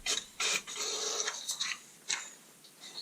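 An HP DeskJet Ink Advantage 6525 inkjet printer works quietly nearby, with short whirring and scraping bursts as the carriage moves, separated by brief pauses of mechanical rustling.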